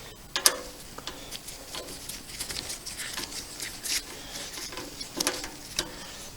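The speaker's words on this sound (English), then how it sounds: "we just take our button head screw and put it down in there, and yeah, it screws right into the nut" Button head screw being tightened into a nut welded behind a custom DIY cold air intake box for an LS-swapped C10, a soft run of close clicking, ratcheting turns with small metallic taps.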